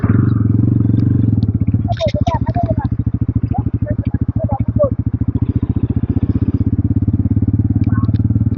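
A motorcycle, a BR46-liveried bike, arrives with a loud, close, rapidly pulsing engine burble that stays steady and strong, while people talk over it.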